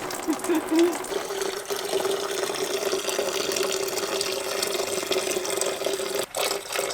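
Coolant draining steadily out of a Nissan Patrol radiator, a continuous trickling, splashing water flow close by that runs without a break, with a brief interruption near the end.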